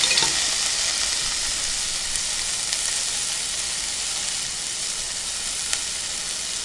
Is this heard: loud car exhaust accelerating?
no